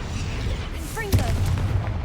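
A blasting-spell explosion from a fantasy video game set at a wizarding school: a single sharp boom around the middle, with magical whooshing tones just before it and a rumbling tail. Game ambience runs beneath it.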